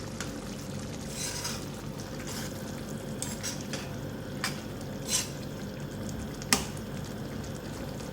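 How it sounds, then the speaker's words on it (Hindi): Minced meat and peeled tomatoes fry and sizzle in a pan for Shinwari qeema, a steady close hiss with occasional stirring scrapes and a few sharp utensil clinks against the pot. "अब इसकी अच्छी सी भुनाई करेंगे और टमाटरों को मैश कर देंगे।"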